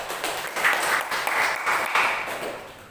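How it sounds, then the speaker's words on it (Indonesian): A classroom group claps for group 3 after a discussion session, steady soft applause from many hands lasting a few seconds, moderately loud with faint voices underneath. "mari kita berikan lagi aplaus untuk kelompok 3"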